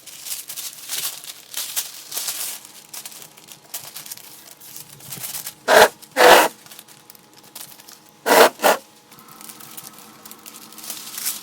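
Tape pulled and torn while masking off a sanded thrift-store furniture piece for spray painting, with soft crinkling and handling noise and a few loud, sharp ripping bursts in pairs midway.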